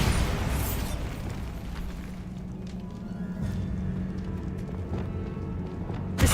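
Bombarda blasting spell in Hogwarts Legacy: a booming explosion at the start that rolls into a sustained low rumble of debris and ambience, fading slowly, with a sharp crack near the end.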